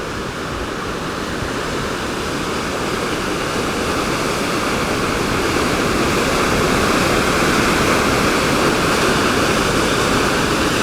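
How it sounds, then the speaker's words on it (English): A waterfall in a narrow gorge on Lake Superior's north shore roars as a loud, steady, unbroken rush of falling water, close by and alone without talk. "Very nice, beautiful waterfall."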